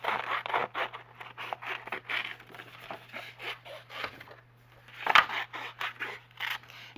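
Scissors snip steadily through paper for a craft journal, a run of close, rhythmic cuts with a short pause before a final burst of snips, no voices.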